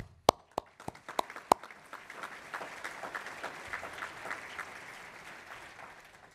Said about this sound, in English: I would like you all to give a warm hand of applause